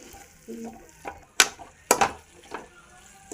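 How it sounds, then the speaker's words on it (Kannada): Grated coconut frying in a pan for poha upma, with soft sizzling and a few sharp clinks and scrapes of a spatula stirring, quiet and close, no talking. "ಆ ಕಾಯಿ ತುರಿನ ಹಾಕಿ ನೀಟಾಗಿ ಫ್ರೈ ಮಾಡ್ಕೊಳ್ಳಿ"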